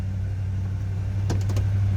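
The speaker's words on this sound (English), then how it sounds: "That was a cold start, so we're going to have a little higher idle here for a second." A 1977 Dodge Charger SE with a 360 engine holds a steady, low rumbling high idle just after a cold start, a continuous drone heard up close, with a few faint ticks near the end.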